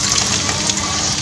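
Chopped onions frying in hot ghee for a Hyderabadi raw-meat biryani, a loud, steady, close sizzle that crackles without a break.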